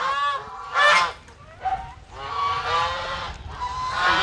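Geese honk repeatedly in loud, harsh bursts at a backyard farm pond, several calls overlapping in uneven clusters with brief dips between them.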